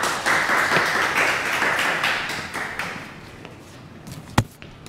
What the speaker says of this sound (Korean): 온라인으로라도 조산구 대표님께 뜨거운 박수 부탁드리겠습니다.